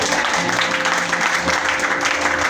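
A church congregation claps and cheers together in worship, a dense, steady wash of applause filling the room, with a voice faintly present underneath.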